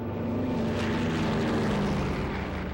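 The Enola Gay bomber, a propeller-driven aircraft, flies away with a steady, loud droning engine roar that holds constant throughout.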